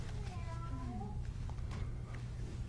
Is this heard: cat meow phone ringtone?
yes